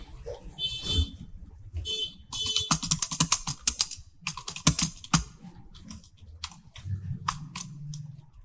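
Computer keyboard typed in bursts while entering C code, rapid clicky keystrokes in quick runs separated by short pauses, close and fairly loud.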